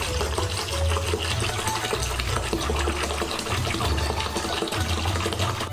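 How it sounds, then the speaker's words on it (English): Soy sauce pours steadily into a bucket, a continuous dense gushing splash that stays loud and even throughout with no talking. "Pour in soy sauce."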